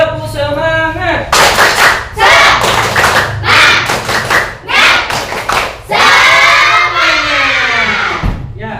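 A classroom group does a rhythmic spirit clap in a pattern of bursts, with chanting voices mixed in, loud and close, ending in a sustained shout.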